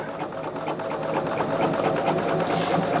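A sewing machine stitches quilt fabric pieces together at a quarter-inch seam for a disappearing four-patch block, a steady close mechanical whir and rapid needle patter running throughout with no talk.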